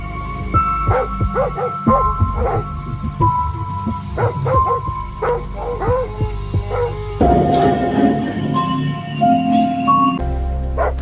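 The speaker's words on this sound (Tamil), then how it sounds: "நம்ம தொலைஞ்சு போன நாய் வீட்டு வாசல்ல நிக்குது." A dog gives a run of close, repeated barks and yips, then whimpers and whines amid some background noise and clatter.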